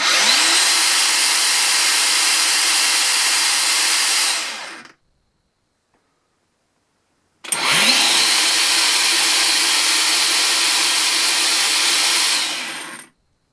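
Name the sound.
Makita 36V cordless 9-inch angle grinder running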